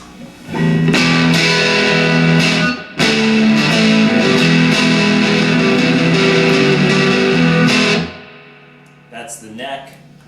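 A left-handed Fender American Professional Stratocaster played through distortion rings out in loud, sustained chords. After a brief gap it strums again, then cuts off, leaving faint ringing and some soft handling noise.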